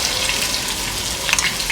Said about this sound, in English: I have some oil frying with some garlic.